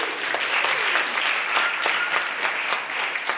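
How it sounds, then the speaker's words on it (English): An audience at a songwriters' qualifying round claps for a performer, producing dense, loud applause that runs steadily throughout. "let's give Scott one more round of applause"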